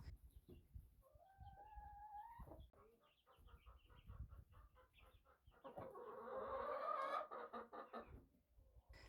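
A mother hen clucks softly to her chicks in a backyard flock, low repeated clucks with a brief rising call and scratching, rustling noises, quiet and close with no talking.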